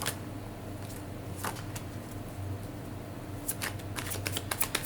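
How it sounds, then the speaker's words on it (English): A white tarot deck is shuffled close by: a quiet riffle near the start, then a burst of crisp, rapid card flutters toward the end. "I'll be using my white tarot deck."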